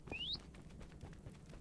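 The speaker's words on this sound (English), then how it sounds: "And the occasional parrot." A parrot in a video game gives one quick rising whistle-like chirp near the start, then falls silent over a low, steady background hum.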